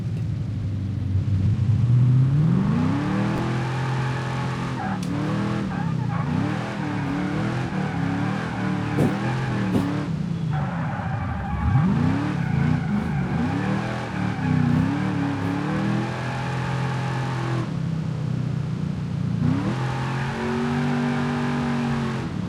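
A car drifts in the BeamNG.drive video game, with a continuous loud engine rising and falling through revs and gear changes and a steady rumble throughout, without any voices.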